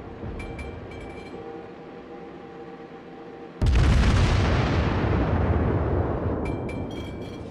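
Naval warship guns firing in a battle game: a loud heavy blast a few seconds in, followed by a long rumbling roar. Faint clicking game sounds come before and after it.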